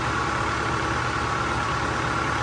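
An old John Deere 450 bulldozer's heavy diesel engine idles steadily and loudly at close range, a constant low rumble with no pauses or voices.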